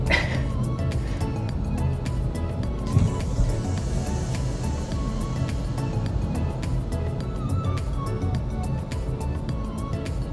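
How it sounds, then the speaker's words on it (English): Road traffic along Ocean Boulevard in Myrtle Beach, heard from inside a moving car: a constant engine and road rumble with a dense low drone and no speech. "Wow, lots of traffic today."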